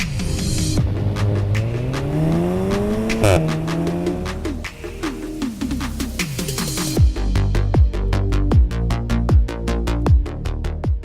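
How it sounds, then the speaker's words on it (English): A Volkswagen Golf 7R, fitted with the Audi RS3 engine, revs hard and accelerates through rising gear pulls with sharp shift breaks, the engine note loud and close, ending in rapid popping bursts. "This is a Golf 7R, and this is how you drive a Golf 7R."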